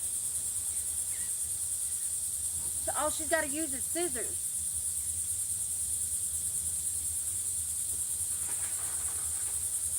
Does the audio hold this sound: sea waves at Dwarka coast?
no